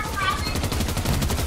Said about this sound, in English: Somebody else is shooting him!